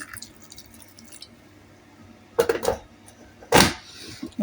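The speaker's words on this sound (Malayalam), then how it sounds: "കുറച്ച് ചൂടുവെള്ളം ഒഴിച്ചാണ് ഞാൻ വേവിക്കുന്നത്" Hot water poured into a pot of beef for cooking gives two short splashing bursts of liquid after a quiet stretch, with a few faint drips around them.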